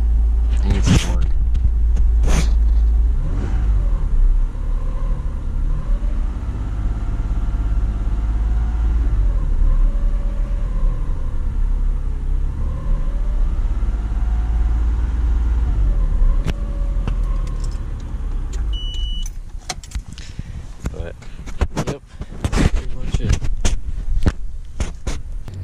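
A Nissan Pathfinder engine runs with a deep, steady rumble as its revs sag, close and loud, with a voice speaking over it and a few sharp knocks near the end.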